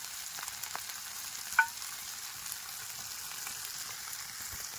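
Dried fish (sukat, bombil) and eggs sizzle in oil in a pan, a soft, steady, continuous frying crackle with one brief faint tick, heard alone and fairly quiet.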